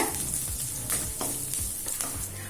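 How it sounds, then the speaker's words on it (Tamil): Onions sauté in a pan for a cabbage kootu, giving a loud, continuous sizzle close by with soft stirring strokes running through it. "இப்ப வெங்காயம் நல்லா வதங்கிடுச்சுங்க."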